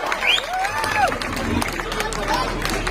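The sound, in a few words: crowd applause for leader Asif Sheikh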